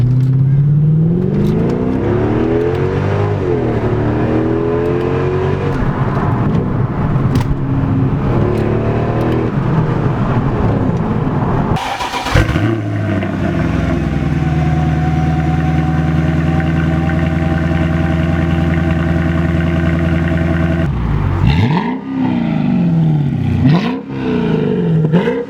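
Mercedes C55 AMG W203 V8 with aftermarket headers, loud and close, rising and falling through repeated revs before settling into a steady, deep idle drone, then blipped again near the end.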